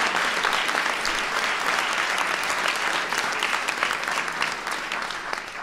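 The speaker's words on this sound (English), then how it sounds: "Give Jacob a round of applause." An audience claps at a speech, a dense, steady round of applause that carries on throughout and gradually fades toward the end.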